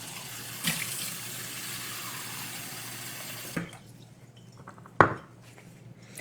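A tap runs with a soft, steady hiss, then shuts off, followed by a couple of sharp clinks of dishware.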